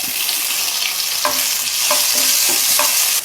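Steady crackling sizzle of mustard seeds and lentils frying in hot ghee, with a few light scraping stirs of a spoon against the pan.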